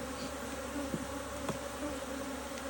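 Honey bees hum in a steady, low drone around an open hive, with individual bees buzzing briefly closer now and then.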